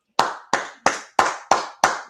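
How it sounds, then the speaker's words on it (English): Six sharp, evenly spaced hand claps ring out close and loud at a steady beat during a Feast of Purim church gathering in Kansas City, each followed by a short decay into silence. "So let's go ahead and clap it up."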